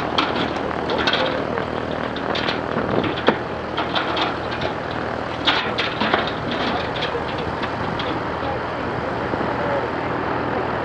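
A propeller airplane engine drones steadily and loudly throughout, a continuous close hum with small clicks and rattles on top.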